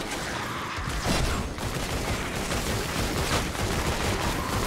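Gunfire in Fortnite Save the World during the Luck of the Storm event: a dense, continuous barrage of overlapping shots and impacts, loud and close, with no speech over it.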